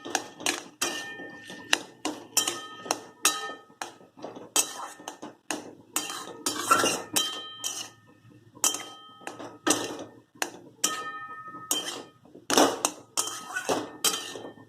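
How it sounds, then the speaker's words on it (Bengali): Banana flower and potato being stir-fried in a pan for banana flower chops, heard as a steady run of sharp metal clinks and scrapes of a spatula against the pan, close and fairly loud, with no one talking. "মোচা আলুটা একসাথে কষিয়ে নেবো"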